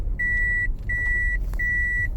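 The dashboard warning alarm of a mini excavator repeats three steady, high-pitched electronic beeps with short gaps between them, heard over a low, continuous engine rumble.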